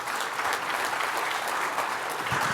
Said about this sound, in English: Round of applause for a Turner here.